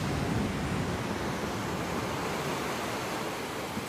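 Low-tide surf at Hendry's Beach, Santa Barbara, on a quiet morning: a steady, even wash of broadband noise from breaking waves, with no voices over it.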